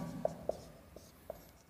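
Marker or chalk squeaks in four short taps and strokes on a board during a biology lecture. The sound is close and fairly faint.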